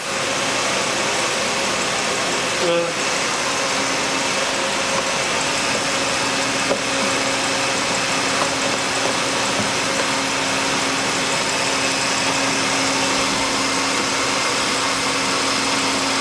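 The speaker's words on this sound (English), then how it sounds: "The engine sounds so good now with that new belt." A Sable car engine with a new belt idles steadily nearby, an even mechanical hum with faint vibration and a couple of small clicks.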